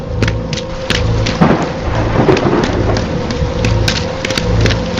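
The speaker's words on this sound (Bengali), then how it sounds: "হঠাৎ আকাশ চিড়ে একটা বিদ্যুৎ চমকালো" A heavy thunderstorm in a horror animation: loud, steady downpour with rumbling thunder throughout and sharp rain-spatter hits, no voices.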